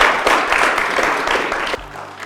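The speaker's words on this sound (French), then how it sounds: "on l'accompagne avec des applaudissements" A studio audience claps in a thick, steady round of applause that tapers off toward the end, close and bright.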